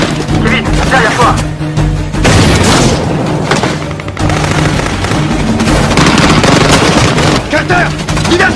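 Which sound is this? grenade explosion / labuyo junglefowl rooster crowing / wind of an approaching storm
grenade explosion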